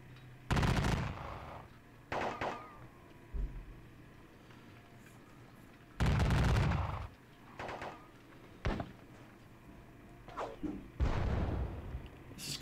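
Enemy guns open fire in repeated heavy bursts, some long and rolling, others short and sharp, separated by brief lulls, loud and fairly close.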